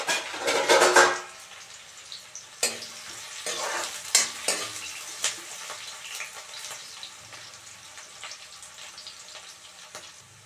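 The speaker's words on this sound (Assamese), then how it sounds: "পিঁয়াজখিনি ভাজি লাগি গৈছে।" Onions and chillies hit a hot pan with a loud hiss and crackle that quickly settles into a quieter sizzle, punctuated by several stirring scrapes and clanks.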